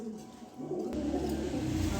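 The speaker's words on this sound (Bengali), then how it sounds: "এখানে আরও এক পেয়ার কবুতর আছে" Pigeons kept in a loft coo in low, soft, throaty tones, a short rolling call rising near the middle and continuing steadily, close by with faint background noise.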